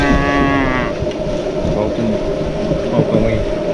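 Cattle on a long drive to new pasture lowing loudly and close, a sustained moo opening the stretch and further calls overlapping through a dense herd din, with voices mixed in.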